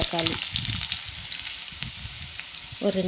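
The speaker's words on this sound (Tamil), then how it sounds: "தக்காளி போட்டு எண்ணெயிலே வதக்கியிருக்கேன்" Tomatoes sautéing in oil with garlic and ginger give a bright, continuous frying hiss with soft stirring taps, and a short voice is heard at the start and end.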